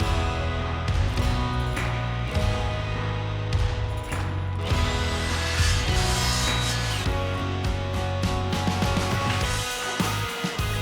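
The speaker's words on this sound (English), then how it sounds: "I cut each one to length without the miter, and then came back and trimmed the miters off the very ends." Saw cutting wainscoting trim pieces to length, a loud continuous dense rasping and whirring that holds steady throughout, close up with slight shifts in tone as the blade works through the wood.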